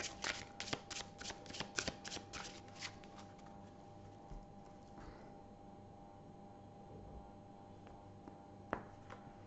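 Crisp riffling and snapping of tarot cards as the minor arcana are added to the deck, a quick burst of shuffling up close, then quieter occasional card taps against a hushed background.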